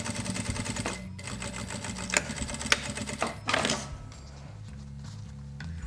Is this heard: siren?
no